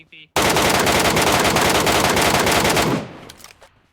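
Automatic gunfire in the video game PUBG Metro Royale: one loud, sustained burst of rapid shots lasting about two and a half seconds, then a fading tail, close and dominant over everything else.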